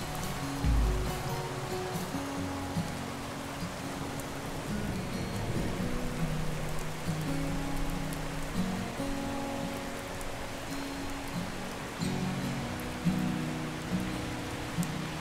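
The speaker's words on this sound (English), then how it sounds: "Our bluebird day went to a pretty solid rain shower" Steady rain shower falling on a small Appalachian mountain stream in summer, a dense continuous hiss of drops on water and foliage mixed with flowing water, moderately loud and unbroken throughout.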